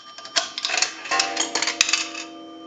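Inside a repaired and converted Automatic Electric payphone, a quarter drops through the coin mechanism with a quick run of metallic clicks and rattles, then a single ringing gong tone.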